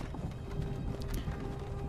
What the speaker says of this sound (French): nous entendons un petit peu des chevaux